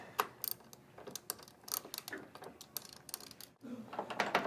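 A wrench ratchets in quick, light clicking bursts as a mount bolt is loosened on the step linkage of an AMP Research PowerStep on a GMC truck. The sound is faint and close, with a brief clunk near the end.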